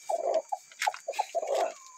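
Brooding hen at a home in Brazil clucking in short, close bursts with irregular gaps, a few sharp higher squawks mixed in, no talk over it.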